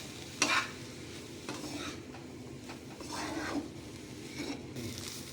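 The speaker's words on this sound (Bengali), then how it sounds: "ছাতু দিয়ে ওইগুলো ভালো করে একসাথে আমি মিশিয়ে দেবো" Sattu being stirred into a vegetable paratha filling with a spoon, giving soft scraping and mixing sounds with a few light clinks against the bowl, fairly quiet and with no talk.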